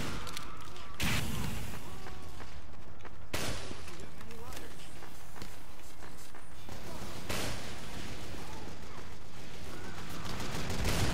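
Rapid bursts of gunfire from the video game Team Fortress 2 during a long round, loud and dense with sharp cracks and brief gaps, under an excited player voice.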